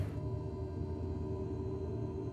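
A steady electric motor whine hums continuously with a low droning tone, the flap motor of a simulated Cessna 172.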